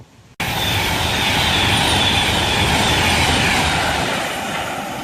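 A train roars through Rugeley Trent Valley station on the West Coast Main Line, arriving abruptly and staying loud and close as a steady rushing rumble with a high whine.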